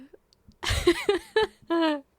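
A person hiccups: after a breathy lead-in come several sharp, voiced hiccup bursts in an uneven rhythm, close and distinct, the last one drawn out slightly longer.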